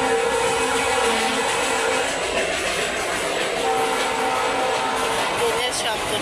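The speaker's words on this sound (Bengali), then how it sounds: "ট্রেনের শব্দ, ট্রেন যাচ্ছে আমাদের বাড়ির পাশে" A train runs along tracks beside a house, a steady broad rumble with a faint horn-like tone that holds through the whole stretch, fairly close and continuous.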